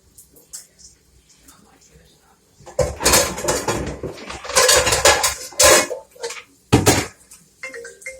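Metal pots and pans clatter and bang loudly as a cooking pot is pulled out, several bursts of rattling and knocking after a quieter start, with a person speaking in between.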